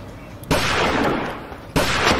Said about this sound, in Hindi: अब गोली मत चलिए